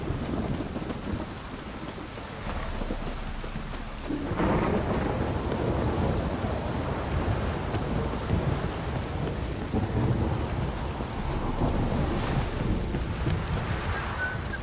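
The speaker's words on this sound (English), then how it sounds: "Look, this downpour's a bastard," Heavy rain in The Witcher 3: Wild Hunt pours steadily in a dense, hissing roar, with low rumbles of thunder rolling beneath it throughout.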